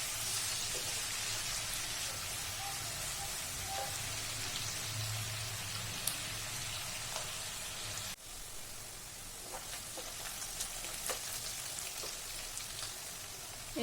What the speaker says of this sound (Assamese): এইখিনি অকণমান তেলত ভালকৈ ভাজি লোৱাৰ পাছত মই ইয়াত পিঁয়াজ দিলোঁ